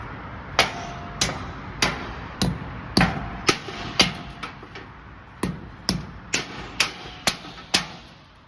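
Steady, evenly spaced hammer blows on a metal anchor bolt being driven into concrete, about two strikes per second, close and sharp, continuing for several seconds.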